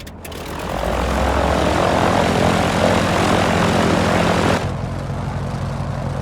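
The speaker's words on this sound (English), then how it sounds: "it's now time to start the engines, so we'll hold down the start engine switch until it comes to life" A Grumman F4F Wildcat radial engine in Microsoft Flight Simulator cranks and catches, then builds into a loud, steady propeller drone before the roar abruptly drops to a lower idle.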